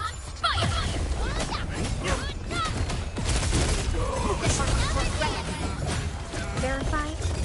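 Weapons open fire in the video game Arknights Endfield, a dense burst of crashing shots and mechanical clatter running continuously over a loud bed of game music and effects.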